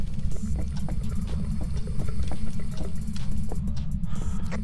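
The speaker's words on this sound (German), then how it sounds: "Immer wenn du in irgendeinem Raum bist, geht Wasser an" Steady rushing tap water runs continuously inside a house in the ghost-hunting horror game Phasmophobia. The flow stays even and fairly loud with no one talking over it.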